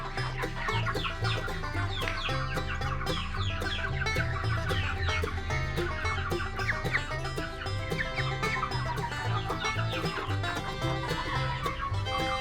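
A rooster and hens clucking close by in a backyard coop beside a duck house, overlapping busy clucks and calls, with no talking.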